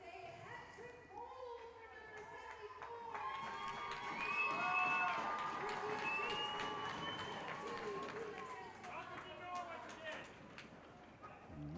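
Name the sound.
crowd applauding and cheering at an ice hockey game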